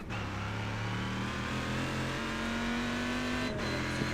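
In the iRacing simulator, race car engines drone steadily at high revs, one pitch climbing as a car draws alongside before a brief dip, continuous and close with no talking.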